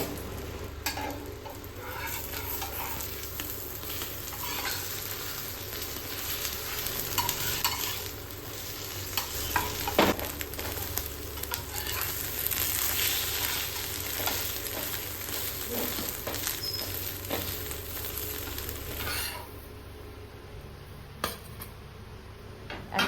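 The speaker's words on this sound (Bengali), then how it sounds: "আমি এখন ডিম ভাজি সৌরভের জন্য" Eggs fry in a pan with a steady, close sizzle and crackle, broken by occasional stirring and spatula scrapes, running continuously before the sizzle drops abruptly near the end.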